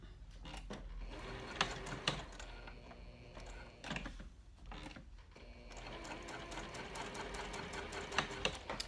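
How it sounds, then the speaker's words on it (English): Sewing machine backstitching through layers of cork on a trifold wallet, a close mechanical whirring run with brief pauses and clicks where the stitching stops and restarts. "I always backstitch over different levels of cork"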